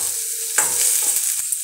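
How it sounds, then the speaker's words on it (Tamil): Onions, curry leaves and green chillies sauté in a pan, a steady close sizzle broken by scraping stirs and a few sharp clacks of the spoon. "இப்போ இது நல்லா வதங்கட்டும்"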